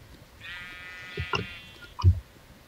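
A sheep in the video game Minecraft lets out a short, wavering bleat, followed by a couple of soft thuds and clicks against a low, steady background.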